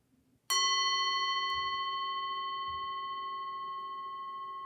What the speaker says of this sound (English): Now listen for the sound of the bell.